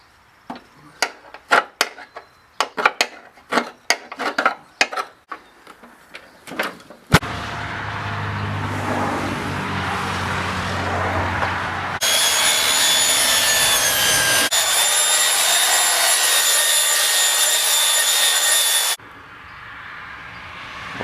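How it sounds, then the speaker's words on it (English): Grass is scraped out of a Huskee LT4200 riding mower deck with a big screwdriver, giving a run of short, irregular scratches and knocks. Louder, steadier mechanical noise follows. "Now take a big screwdriver and clean some of that grass out"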